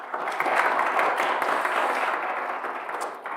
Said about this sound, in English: A huge round of applause for our amazing speakers.